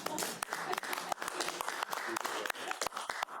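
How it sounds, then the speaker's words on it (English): Scattered hand claps from a small audience at a city council special meeting: quiet, uneven claps with a light murmur of room noise, short and not very full. "We promised to clap, so I'll have us clap now for all you've done."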